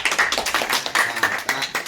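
A guest from Mahendragarh is welcomed with clapping in a small gathering: a brisk run of close, sharp hand claps, uneven in rhythm and continuing without pause through the moment.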